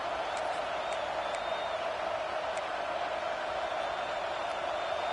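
Stadium crowd in a college football video game, Nebraska versus Michigan, roaring on a big third down: a dense, steady wash of distant cheering noise with faint intermittent whistles, no clear voices.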